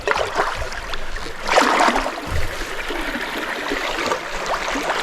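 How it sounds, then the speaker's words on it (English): River rapids in Michigan wilderness, water pouring over a fallen tree, give a steady rushing, gurgling flow close by, with a few louder splashes and no speech. "Y'all hear them rapids?"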